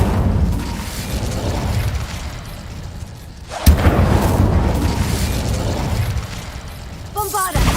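The Incendio fire spell is cast in the game Hogwarts Legacy: a sudden loud burst midway swells into a sustained roaring rumble, with game sounds and a voice around it.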